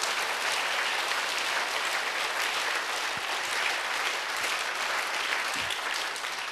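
Church congregation applauding during a Sunday worship service, a dense, steady wash of many hands clapping that fills the whole stretch at moderate level with no break.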